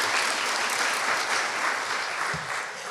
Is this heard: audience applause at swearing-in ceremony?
yes